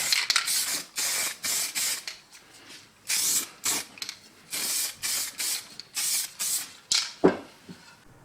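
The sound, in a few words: spraying white primer coat onto old tin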